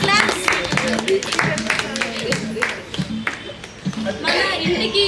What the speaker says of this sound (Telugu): సత్యనారాయణ గారికి క్లాప్స్